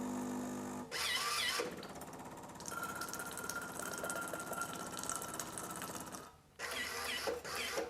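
A Jura Z7 coffee machine running its rinse cycle: a steady mechanical whir and pump hum, close and fairly quiet, framed by louder bursts of grinding or gear noise at the start and end.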